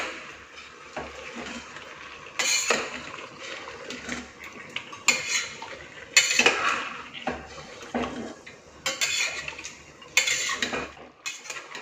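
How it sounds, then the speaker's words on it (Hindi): A metal spoon stirs and scrapes mutton inside a pressure cooker, giving repeated clattering clinks and scrapes of utensil on pot, close and fairly loud in bursts, with no talking. "मटन को कुकर में डालने के बाद हम इसे चलाएंगे।"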